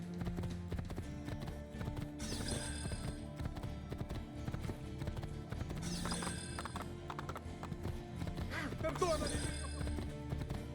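Hooves clip-clop in a quick galloping rhythm in the video game Assassin's Creed II, with occasional rustles and a voice talking over the riding sounds.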